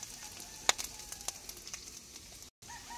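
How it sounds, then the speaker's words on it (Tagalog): Pork fat renders out in a hot pan for Bicol Express, a soft continuous sizzle with a few sharp pops and crackles, faint and close, with no talking. "Pinapalabas yung mantika"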